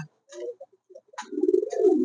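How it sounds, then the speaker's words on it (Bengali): King pigeons coo close by, a few short soft calls followed by a longer rolling, rising coo, with silence between the early notes. "আল্লাহ দিলে আমার কবুতর দুটি একদম সুস্থ সবল আছে"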